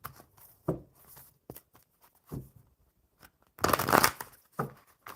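Oracle cards being shuffled by hand in a quiet room, with soft irregular riffling and tapping bursts close by and a louder flurry near the end.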